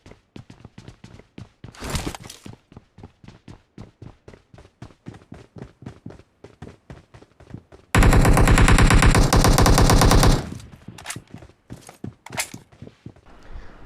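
A Vector submachine gun fires in PUBG Mobile: short rapid bursts, one long sustained burst near the middle, and quick clicky footstep-like ticks between them, all close and sharp.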